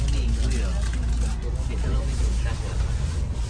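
A Sinar Jaya double-decker bus on the Malang–Jakarta run sends a heavy low engine drone through the cabin as it pulls away, steady and constant beneath a person talking.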